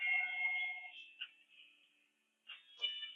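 A Fanvil V series VoIP desk phone rings after an extension is dialed, giving a steady electronic ring tone that pauses briefly and then resumes in a second burst, clear and close with no talk over it.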